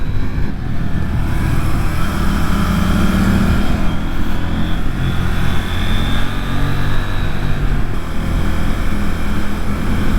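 A CF Moto NK800 motorcycle ridden along a winding, smooth road, its engine droning steadily and loudly with heavy wind rush throughout, holding a fairly constant pace with slight shifts in pitch.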